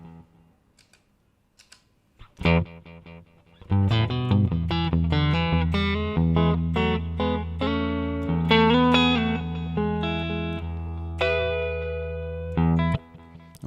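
Guitar through a MOOER GE200 multi-effects unit with delay: after quiet handling clicks, a strummed chord, then a sustained chord-and-melody passage, with repeating echoes trailing each note, loud and alone.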